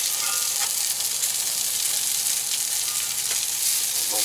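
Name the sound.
striped bass frying in a pan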